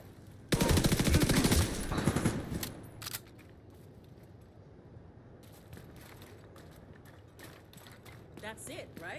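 Rapid automatic gunfire in a video game bursts out loud and dense for about two seconds, then drops away to a quieter background of faint mechanical clatter and scattered sounds.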